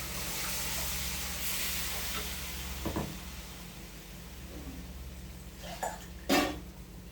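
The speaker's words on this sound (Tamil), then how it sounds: "மிக்ஸி கழுவின தண்ணி ஊற்றிடலாம்." Water rinsed from a mixer jar is poured into a pan of hot mutton kaima gravy with cooking meatballs, giving a steady close sizzling hiss with a few soft clinks of utensils near the end.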